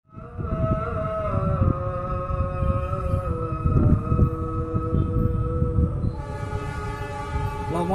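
A CC 206 diesel locomotive approaches on the Cicurug-Cigombong double-track line, its sustained horn blaring loud and steady over a deep engine and rail rumble.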